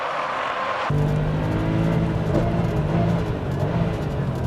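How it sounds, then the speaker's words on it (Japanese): Loud, close engine of a Porsche race car holding a steady high drone on the final lap of a Japanese sports car track battle, with a sudden shift in tone near the start and no voices. "ファイナルラップ、黒沢ポルシェは独走態勢をキープ"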